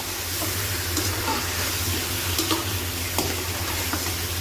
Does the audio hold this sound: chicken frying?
yes